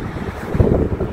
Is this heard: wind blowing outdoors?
yes